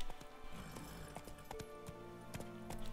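Hooves of a black horse clip-clop at close range in a steady, uneven walking rhythm, with sharp individual strikes throughout and some faint background noise, no talk heard.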